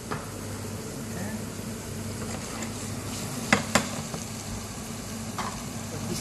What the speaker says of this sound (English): this saucepan I will use actually to saute the oyster mushroom